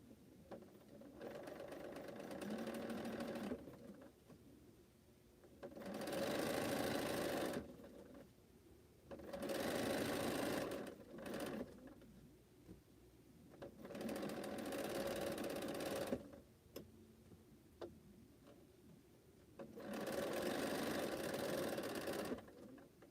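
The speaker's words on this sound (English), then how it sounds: "This is a true straight seam, so nothing fancy here. Just sew a 1/4 inch seam." A sewing machine stitches a straight quarter-inch quilting seam for fan blocks in repeated bursts of steady mechanical whirring, each lasting a few seconds and separated by brief pauses, close and clear, with no talking.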